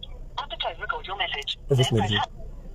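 A phone call going to voicemail, heard as a thin, band-limited telephone voice delivering a short automated message through the handset, close and clear.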